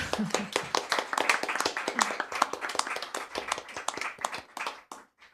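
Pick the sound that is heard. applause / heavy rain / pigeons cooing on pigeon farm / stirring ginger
applause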